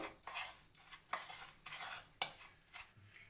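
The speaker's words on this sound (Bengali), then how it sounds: "সাদা তেল দিয়ে আমি ভালো করে এটাকে নাড়বো।" A spoon stirs powdered sugar and white oil in a steel bowl for an eggless sponge cake, giving repeated scraping strokes roughly every half second with one sharp metallic clink, close and quiet.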